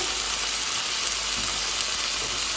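Cumin and red chili powder frying in a pan with turmeric for a long bean dish, giving a steady, even hiss of sizzling oil without a break and no talk.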